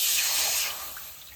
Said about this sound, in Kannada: ಸ್ವಲ್ಪ ನೀರನ್ನು ಹಾಕ್ತೀವಿ.